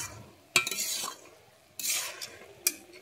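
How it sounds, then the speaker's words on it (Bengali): Hilsa fish head and cabbage curry stirred in a pan, three distinct bursts of spatula scraping and clinking against the pan with a soft sizzle underneath, separated by quieter pauses. "আমি এবারে ভালোভাবে এটাকে নেড়ে নিচ্ছি"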